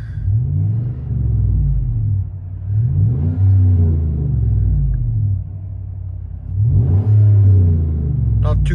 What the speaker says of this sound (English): This is what it sounds on the inside.